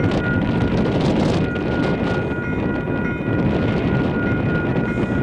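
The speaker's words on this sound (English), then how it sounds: "Sorry, it is quite windy today." Strong wind buffeting the microphone at the Pascoe Ave level crossing on the Kapiti Line, a loud continuous rumbling roar with gusty swells and no talking.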